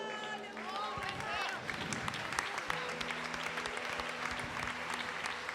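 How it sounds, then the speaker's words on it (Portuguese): A church congregation applauding during a worship service, a continuous spread of clapping from many hands at moderate distance, with a preacher's voice and sustained musical tones running underneath. "Você pode aplaudir ao Senhor."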